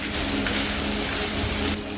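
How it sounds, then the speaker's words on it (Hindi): Steady, heavy rain pours down during the 2022 flooding in Balochistan, a dense, even hiss with no break and no voices. "बारिश मुस्तकिल हो रही है यहाँ पे"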